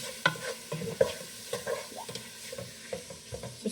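Seasoned beef is stirred in a pot for stew, a spoon scraping and knocking the pot in irregular strokes over a soft sizzle, close and moderately quiet, with no voices.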